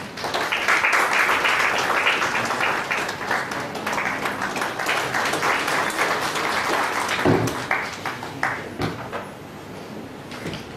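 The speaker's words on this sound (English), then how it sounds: "Please give a big round of applause." Audience applause fills a hall at a professional seminar on the Companies Amendment Act, dense, steady clapping held at full level for most of the stretch before tapering slightly near the end.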